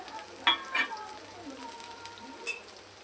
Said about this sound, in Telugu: ఇవి కొద్దిసేపు దూరగా వేయించుకుందాం.